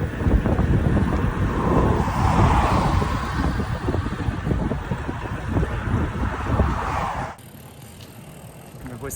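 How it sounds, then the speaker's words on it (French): Headwind buffeting the microphone of a cyclist riding across Canada, a loud, steady roaring rush with low rumble that suddenly drops to a quieter hiss near the end. "Petit vent de face fatigant"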